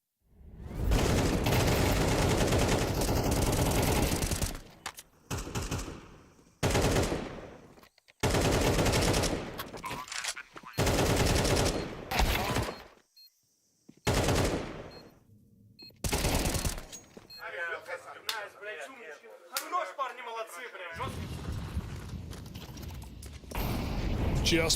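Rapid pistol gunfire in a Counter-Strike esports match, with dense bursts of popping shots broken by short silent gaps, and a caster's voice talking over parts of it.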